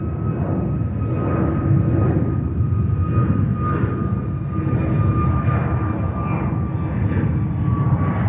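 A jet airliner powers up for takeoff on runway 13 right at JFK Airport, its engine roar steady and fairly close, with a faint high whine running through it.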